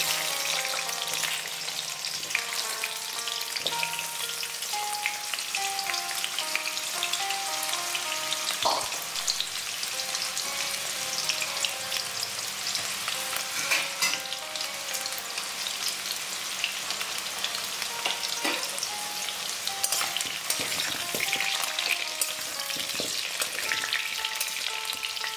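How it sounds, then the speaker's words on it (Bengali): Large potato chunks fry in hot oil with a constant crackling sizzle, broken by occasional scraping stirs and clicks, while a faint background melody plays; nobody speaks. "এখন আমি এই আলুগুলো ভেজে নেব"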